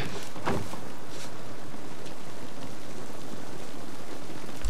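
Steady rain falls in the video game The Last of Us Part I, a soft, even hiss of drops throughout, with a brief brighter splash near the start and no voices.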